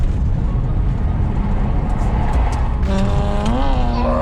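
BMW 530i E34 drifting through a Scandinavian flick, loud close engine drone joined after a few seconds by rising revs and sweeping tyre squeal.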